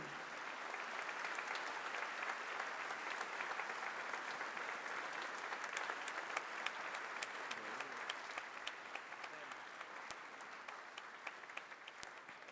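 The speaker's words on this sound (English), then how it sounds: "Let us extend a round of applause, ladies and gentlemen, to welcome His Excellency to the venue." Sustained applause from a large audience at the APEC CEO Summit 2013 welcoming the President of Indonesia, steady and dense throughout, fairly distant and even in level.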